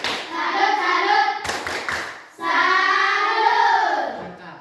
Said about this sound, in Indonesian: Kasih tepuk tangan sekali lagi. Tepuk salut.